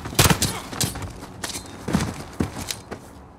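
Gunfire in the Modern Warfare campaign video game comes as a handful of sharp, separate bursts spaced irregularly over a few seconds, fairly close and punchy.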